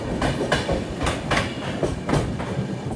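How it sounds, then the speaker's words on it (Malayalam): The Mandovi Express rolls into Thane railway station, its wheels beating a steady clickety-clack over rail joints with regular rhythmic thumps, loud and close, with no voices. "ട്രെയിൻ ഇതാ താനെ റെയിൽവേ സ്റ്റേഷനിലേക്ക് എത്തി."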